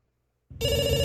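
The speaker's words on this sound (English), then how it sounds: "We pick up the phone because it's ringing." A telephone bell rings loudly and steadily, starting abruptly after a moment of silence and continuing alone to the end.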